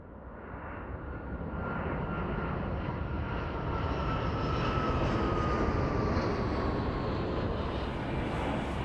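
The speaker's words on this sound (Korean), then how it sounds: "지금 비행기가 이렇게 뜨고 있지 않습니까? 지금 뜨고 있는 게 동서활주로." A passenger airplane takes off on the east-west runway at Jeju Airport, its jet engines a loud, steady roar that builds gradually over several seconds with a faint whine on top, heard from nearby with no talk.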